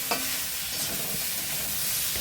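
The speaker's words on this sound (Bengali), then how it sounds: "মাছের মাথাটা দিয়ে ভালো করে নেড়ে নেব।" Fish heads fry in a pan and are stirred, a steady close hiss of sizzling oil running throughout with soft scraping of the spoon and no speech.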